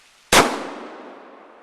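Shotgun firing number 7.5 shot at a board outdoors: a single loud, sharp blast that cracks out close and decays over about a second.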